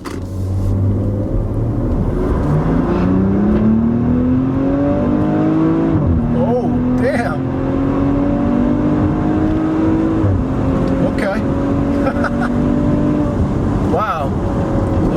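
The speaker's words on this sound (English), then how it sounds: "let's try a nice acceleration here in sport mode" A 2017 Maserati Levante accelerates hard in sport mode, its engine note climbing through the revs, briefly dropping at gear shifts and rising again, loud and close from inside the cabin under steady road rumble.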